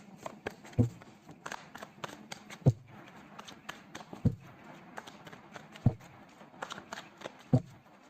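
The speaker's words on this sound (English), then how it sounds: "let's pull some cards from universe" Tarot cards are shuffled and drawn in a quiet room: a handful of sharp, close card snaps land at uneven intervals over soft, steady riffling and rustling.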